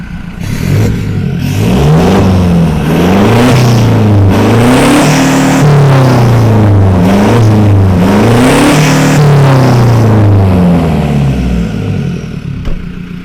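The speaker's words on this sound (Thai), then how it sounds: "สำหรับเสียงท่อนะครับก็จะประมาณนี้นะครับไม่ดังจนเกินไปนะครับ" A 2018 Toyota Hilux Revo Smart Cab 2.4 pickup revs loudly through a deep aftermarket exhaust, rising and falling in several throttle blips, close and sustained.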